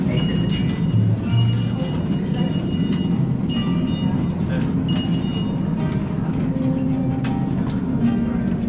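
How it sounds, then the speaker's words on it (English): A sightseeing train in Belize rumbles and rattles along as it slows toward a stop, a steady close mechanical drone with clicks and squeals, while people talk over it throughout. "The train will be coming to a stop shortly."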